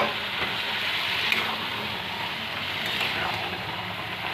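Mustard paste with green chilies sizzling and frying steadily in a pan, a continuous close crackle with a few soft stirring knocks, no voices.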